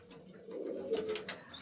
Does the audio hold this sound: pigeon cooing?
yes